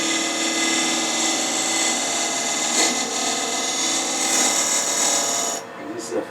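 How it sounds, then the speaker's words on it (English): A box scraper makes a finishing pass on a wooden keepsake box, a continuous close, rasping scrape with a couple of brief stronger strokes before it eases off near the end. "I use a box scraper"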